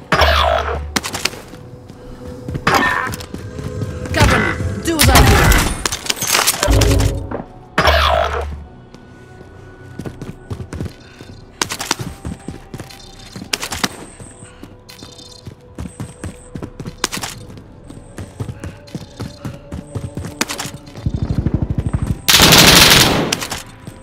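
Call of Duty gunfire: loud bursts of automatic weapon fire and single shots, clustered near the start and again toward the end, with quieter stretches of scattered rapid reports and game effects between.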